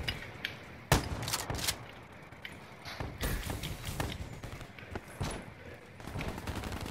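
Rapid gunfire in the video game Call of Duty: Black Ops III, with loud bursts and sharp single shots in quick, irregular volleys throughout, plus clattering game effects.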